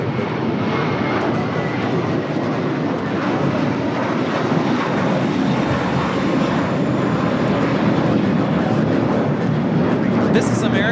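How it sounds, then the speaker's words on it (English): An American Airlines A321 airliner takes off from Los Angeles LAX, a loud, continuous roar of jet engines held steady throughout. "This is American Airlines Flight 32 taking off to JFK on the A321."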